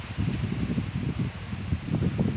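Gusty wind sweeps through trees ahead of a rain shower, a steady broad rush with rustling leaves that swells and eases continuously, fairly close and with no voices.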